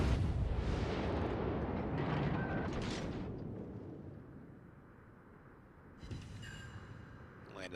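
Naval guns fire in a video game clan battle, with deep rumbling booms and roaring blasts that fade into a distant rolling wash, then a fresh burst of sharper reports near the end, with faint talk beneath.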